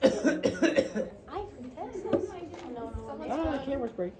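Two people cough together in a lecture classroom: several loud, close, overlapping harsh coughs, followed by throat clearing and murmured chatter.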